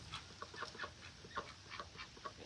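Several large ducks quack in short, irregular calls at a fair distance, faint and unaccompanied by speech, with a few overlapping squawks.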